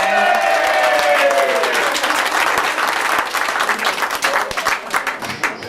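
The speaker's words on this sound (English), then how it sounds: "everyone wants to give you a round of applause for something" A live audience at a comedy hypnosis show in England, circa 2000, bursts into steady, loud applause that gradually thins into scattered clapping toward the end.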